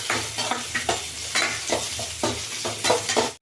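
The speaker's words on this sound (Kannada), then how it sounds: "ಇದೆಲ್ಲ ಚೆನ್ನಾಗಿ ಎಣ್ಣೆನಲ್ಲಿ ಫ್ರೈ ಆಗಬೇಕು." Ingredients for tomato bath fry in oil in a pan with a busy sizzle and repeated scraping stirs, close up and with no talk.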